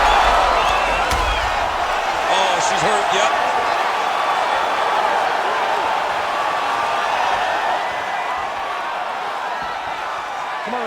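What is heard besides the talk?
arena crowd at a UFC fight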